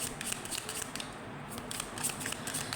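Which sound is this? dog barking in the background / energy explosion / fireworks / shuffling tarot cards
shuffling tarot cards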